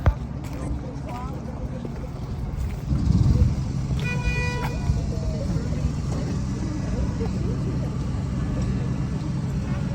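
A mini garden train runs at Trentham, its motor rumbling steadily and rising briefly, and a short tooting whistle sounds partway through. People talk nearby throughout.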